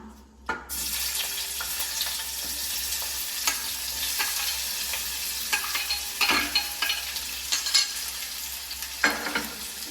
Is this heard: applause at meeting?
no